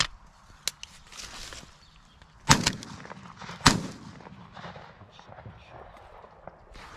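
Two shotgun shots fired for crow control over a cut maize field, sharp loud cracks about a second apart, with faint outdoor rustle and footsteps between them.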